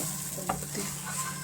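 A flipped eggless veg tomato omelette fries in oil in a pan, a close, steady sizzle with a brief scrape of the spatula midway.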